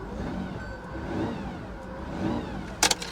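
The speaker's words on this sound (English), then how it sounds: "Give her a quick rev." A Plymouth Voyager minivan, bought as a non-running auction vehicle, idles close by and is given two quick revs that rise and fall, followed by a couple of sharp clicks at the end.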